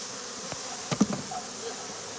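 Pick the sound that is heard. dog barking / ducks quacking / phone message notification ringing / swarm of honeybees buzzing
swarm of honeybees buzzing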